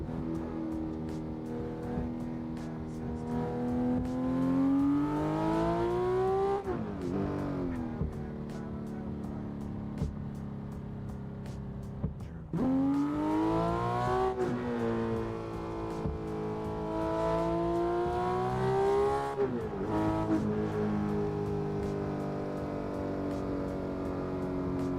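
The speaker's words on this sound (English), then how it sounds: "Today I am driving the Porsche 911 GT3." Porsche 911 GT3 engine pulling hard on the road, its loud rising rev climbs shifting up through the gears with brief dips between, a continuous close, powerful drone throughout.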